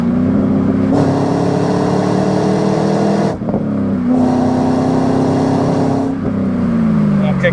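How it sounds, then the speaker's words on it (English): A deep, rumbling V8 engine in a 2000 Chevrolet Camaro SS with an LS1 and six-speed revs hard through two long pulls, dropping briefly between them as the exhaust roars loudly and steadily. "Obviously that exhaust sounds just killer"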